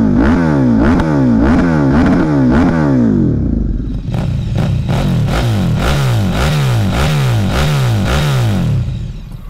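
A KTM RC8R sport motorcycle with twin exhausts, one on each side, revs loudly and repeatedly, its engine rising and falling in steady bursts close by, with a mechanical clatter and no talk.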